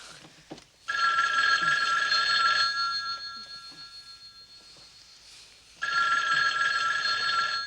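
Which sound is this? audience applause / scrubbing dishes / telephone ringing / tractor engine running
telephone ringing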